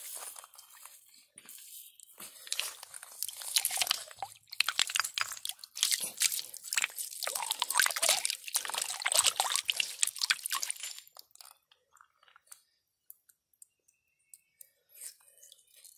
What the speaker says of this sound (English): I'm going to rinse off this one right here.